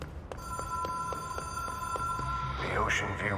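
A steady electronic telephone ring in the video game Control, a sustained two-tone warble pulsing at a regular rhythm, with a brief voice-like sweep joining near the end.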